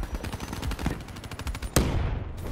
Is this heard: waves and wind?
no